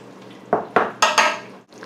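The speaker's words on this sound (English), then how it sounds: "So give it a really good stir." A spoon scrapes and clinks against a pot while stirring bison chili with added cocoa powder, four quick close knocks and scrapes over a soft sizzle, no voices.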